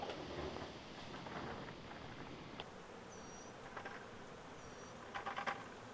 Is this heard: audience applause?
no